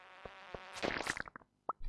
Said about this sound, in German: Zieh mal deine Runde, du Mücke